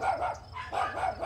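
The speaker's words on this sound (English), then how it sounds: "Dog." A dog barks in a children's animal sound set, several short close yips and barks in quick succession, clear and alone.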